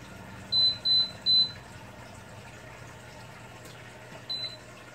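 An air fryer being set to preheat beeps three times in quick succession, then gives one more shorter beep a few seconds later over a faint steady background hum.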